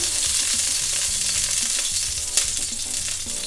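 Three tablespoons of pure sesame oil sizzle loudly and steadily in a frying pan, a constant bright hiss with faint music playing underneath.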